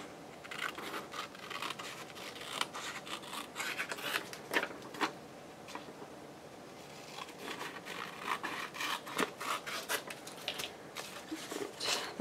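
Scissors cutting an envelope and packaging paper, a run of crisp close snips and rustles with brief pauses and no talking.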